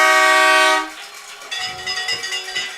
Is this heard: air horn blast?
yes